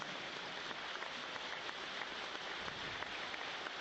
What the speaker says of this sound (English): please join us in a minute of applause